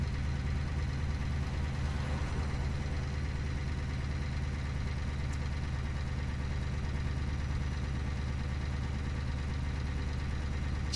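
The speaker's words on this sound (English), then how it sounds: "That engine, eh? Doesn't that sound nice? It's chugging along there." A truck engine chugs steadily in the driving game Euro Truck Simulator 2, a continuous low droning rumble at constant loudness that never lets up, heard alone.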